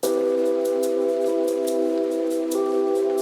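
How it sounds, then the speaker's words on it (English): Rain sample layered into a chill lo-fi beat, a steady hiss of falling rain running throughout beneath sustained piano chords and pad tones. "some nice rain that I found the sample of"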